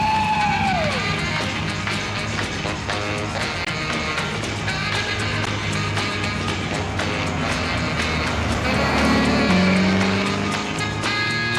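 A Lotus 7 sports car accelerates hard with a loud, continuous engine roar rising in pitch, with faint tire squeal, heard up close.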